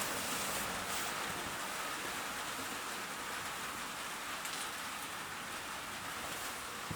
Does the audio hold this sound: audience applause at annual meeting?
no